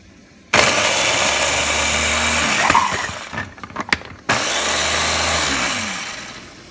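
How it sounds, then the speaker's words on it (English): A food processor pulses garlic cloves and onion in two loud, sustained whirring runs, separated by a brief pause filled with clattering and rattling of the chopped pieces. "I have the 3 garlic cloves and the onion. I'm going to pulse this really good"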